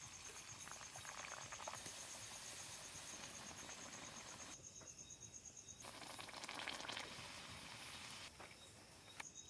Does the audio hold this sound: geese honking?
no